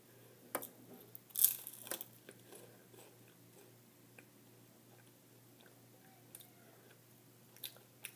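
Turkish wafer snack being chewed close up, with quiet irregular crunches and a sharper crackle early on, then softer sporadic bites fading into near silence.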